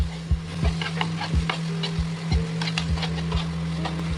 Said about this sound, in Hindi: इसको भी हम सॉटे करेंगे। नेवर माइंड, चलाते रहेंगे अभी भी